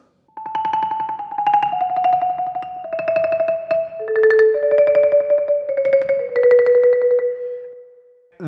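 Solo marimba plays rolled notes from the Allegro of Handel's Violin Sonata in D Major with two mallets, each roll beginning softer and swelling into its body, so the tremolos move in gentle waves through a descending line.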